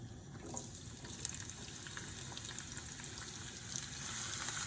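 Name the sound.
onion frying in oil for chicken nihari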